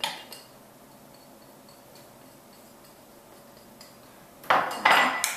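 Cosmetic face cream with hyaluronic acid being stirred in a small dish: faint light ticks at first, then a louder burst of utensil scraping and clinking against the dish near the end.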